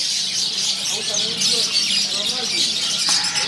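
Caged canaries at a bird kiosk chirp and trill in a steady, busy high twitter that carries through the whole stretch, with light background chatter underneath.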